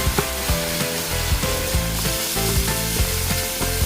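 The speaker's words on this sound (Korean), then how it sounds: "양송이버섯도 볶아줍니다." Ground beef and button mushrooms fry in an oiled pan, giving a continuous close sizzle with scraping stirs and clacks from a utensil, and no voices.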